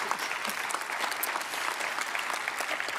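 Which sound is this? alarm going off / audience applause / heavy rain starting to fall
audience applause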